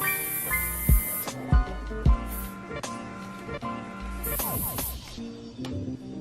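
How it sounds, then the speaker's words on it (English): Hairspray is sprayed in a few short hissing bursts close by, alternating with brief clicks and rustles and faint background music. "Now we're gonna take some hairspray."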